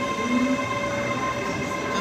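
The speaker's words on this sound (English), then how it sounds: "Now it's 1339 ScotRail service from Edinburgh Waverley to Perth" A ScotRail service bound for Perth from Edinburgh Waverley rumbles steadily through Haymarket station, a constant mechanical drone with a sustained tonal whine and no voices.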